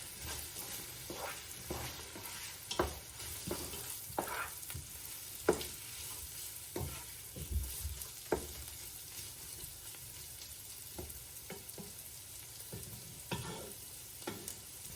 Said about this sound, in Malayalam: സവാള കൂടാതെ ഒരു 13 ചെറിയ ഉള്ളിയും ചേർത്ത് കൊടുക്കുക. എന്നിട്ട് ഒരു 5 മിനിറ്റ് നേരം